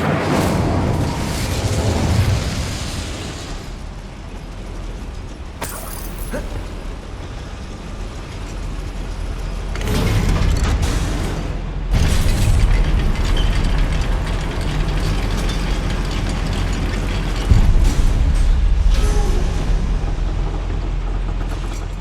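Incendio fire spell cast in Hogwarts Legacy near a goblin mine lift mechanism; loud whooshing flame bursts over a constant low rumble, with the strongest flare-ups around midway and again late.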